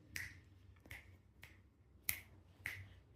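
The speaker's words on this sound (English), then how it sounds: "Usually she opens her mouth when I snap my fingers, trying to imitate the noise" Five crisp finger snaps ring out at a steady, unhurried pace in a quiet room, close and clear with nothing else heard.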